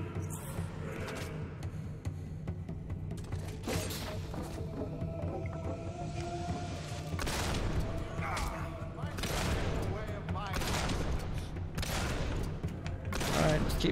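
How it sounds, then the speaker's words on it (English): Repeated bursts of gunfire in the Xbox 360 game Fable 2 crackle through the scene, irregular volleys over steady background game sound, with a voice talking at times. "just keep shooting"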